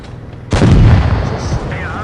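A heavy explosive round slams into a KpfPz. 70 tank in a tank video game, a loud, close boom with a deep low-end thump that rings and decays over a second or so, followed by faint metallic whine.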